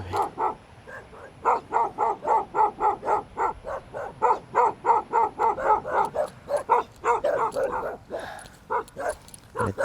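Dogs at a seaside campsite bark in a fast, steady run of repeated woofs, fairly close and continuing throughout with a few whimpering yips near the end.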